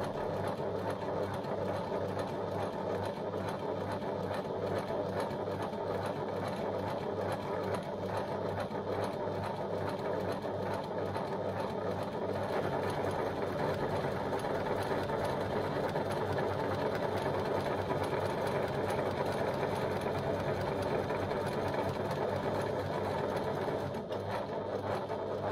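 A sewing machine stitches steadily along one side of a piece, a continuous fast mechanical whir and ticking at an even pace throughout, close and moderately loud with no talking.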